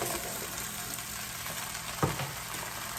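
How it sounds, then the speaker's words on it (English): Freshly washed green beans go into a pot of sizzling sausage and onions, a steady frying hiss with a brief clatter as they drop in, no talking. "So I'm going to go ahead and add my freshly washed green beans to the pot."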